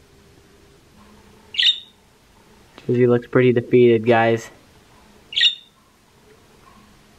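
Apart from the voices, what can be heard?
bird squawking and chirping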